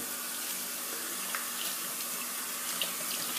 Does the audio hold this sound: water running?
yes